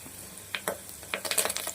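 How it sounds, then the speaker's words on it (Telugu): Curry leaves and dried red chillies hit a pan of hot tempering oil, giving a few faint crackles and pops that turn into a quick, denser burst of sizzling near the end. "కరివేపాకు, ఎండుమిర్చి వేసి కాసేపు అట్లా వేగనివ్వాలి"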